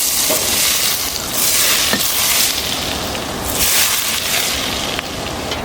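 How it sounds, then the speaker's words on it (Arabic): Hand blender whirring through a cooked Egyptian winter dish in a home kitchen, a steady loud buzzing hiss with slight surges as the blade works the food smooth, no talk. "انا هضربها بالهاند بلندر كده لحد ما تنعم معايا خالص"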